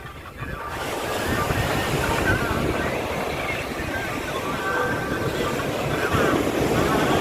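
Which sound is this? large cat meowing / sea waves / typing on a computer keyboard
sea waves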